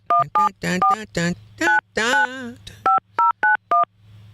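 A phone number is dialed as a string of about a dozen crisp touch-tone beeps in quick bursts, loud and close, interleaved with people talking in a radio studio.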